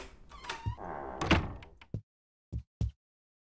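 A door opens in Life is Strange: Before the Storm, a creak followed by a heavy thump, then two short separate knocks or clunks after a brief silence.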